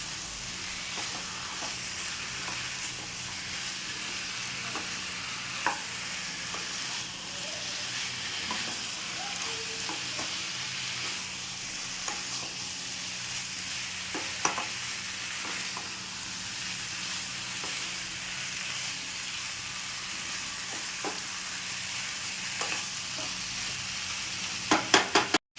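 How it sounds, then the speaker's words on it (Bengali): Chicken pieces sizzle steadily in a pan for malai chicken, with a continuous frying hiss and occasional soft scrapes and clicks of stirring, rising to a few louder knocks at the end. "এবার চিকেনটা একটু ভাজা ভাজা করবো।"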